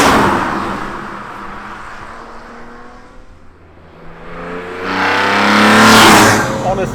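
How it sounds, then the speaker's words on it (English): A G80 BMW M3 engine revs and fades, then swells again as it accelerates hard out of corners, loud and close, with a voice talking over it. "hearing that engine note every time you come out of a corner"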